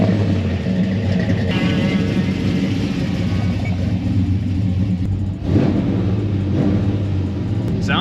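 An LS3-swapped Chevelle making about 500 horsepower idles with a deep, steady rumble, its low engine note loud and continuous with small swells.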